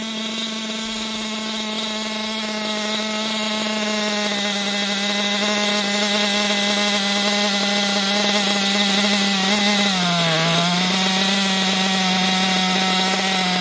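A Losi LST XXL RC truck engine idles with a steady, loud buzzing drone that sags briefly near the end before settling back. No one speaks over it.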